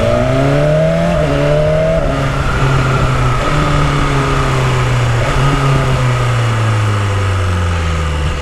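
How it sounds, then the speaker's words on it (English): A car engine revs loudly through a series of downshifts, pitch climbing and dropping in repeated blips as gears change, close and continuous with no talking. "I will not get bored of those downshifts"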